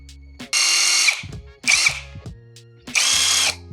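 A GISAM 1800Nm cordless impact wrench working a small nut loose: three loud, close bursts of rapid hammering, each about half a second to a second long, with short motor whirs and quiet gaps between them.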